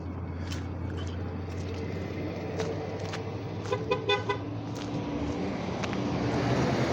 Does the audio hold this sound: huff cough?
no